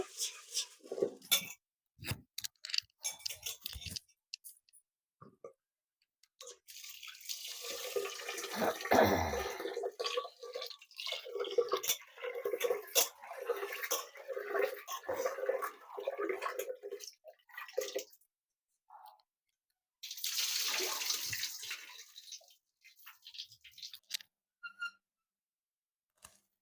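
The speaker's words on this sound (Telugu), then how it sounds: "బియ్యమైతే ఇలాగ రుద్ది రుద్ది కడిగేస్తానండి" Hands scrub and swish rice grains in a shallow pot of water, wet rubbing and splashing in bursts with short pauses, close by.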